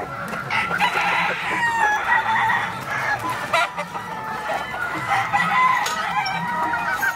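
A rooster crows repeatedly among clucking fowl in a busy yard, the calls loud and close over a constant background of other birds.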